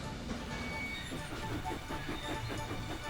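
Cartoon steam engine Thomas chugging quickly along the track past a windmill toward Knapford, a fairly faint, steady rhythmic chuffing and rail clatter with a light hiss.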